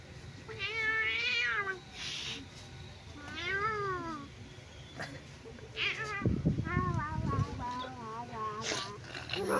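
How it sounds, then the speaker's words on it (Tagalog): A cat meows repeatedly in clear, rising-falling calls, several distinct meows spaced across the clip, with a person's voice and some low background noise around them. "Pagmiyaw, pagmiyaw."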